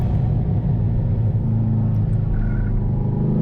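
A 650+ hp naturally aspirated C6 Corvette Z06 on the Thunder Hill West race track, its engine a loud, steady, deep rumbling drone held close and constant, without speech.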